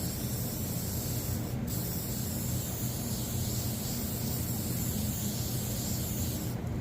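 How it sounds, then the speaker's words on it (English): A steady, loud WD-40 aerosol hiss sprays continuously onto a rag for several seconds, broadband and unbroken, up close. "I'm going to make me a WD-40 rag instead of having to keep spraying."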